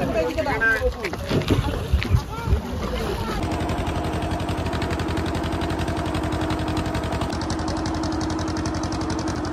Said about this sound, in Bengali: আর এই যে আমরা এই নৌকা করে যাবো ওই পারে